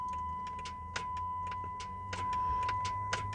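A car's starter solenoid clicks faintly when the key is turned to crank on a no-crank, no-start vehicle. Several light, irregular ticks sit over a low hum and a steady faint tone.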